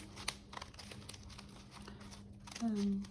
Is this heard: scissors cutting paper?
yes